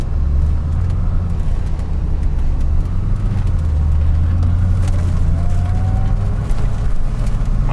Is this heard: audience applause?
no